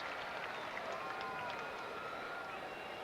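A large baseball crowd at Yankee Stadium on a Sunday afternoon for the final game of the 1989 season, heard as a steady, broad murmur of many voices with faint whistles rising above it throughout.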